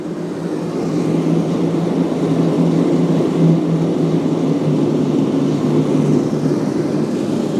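Gas-fired ribbon burner forge running with gas fed through a ball valve, a steady loud roaring rush with a low hum, continuous and unchanging throughout.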